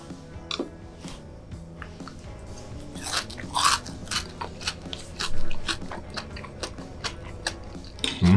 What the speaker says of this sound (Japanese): こう食べた時のねサクサクの音